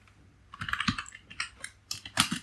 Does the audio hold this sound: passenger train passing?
no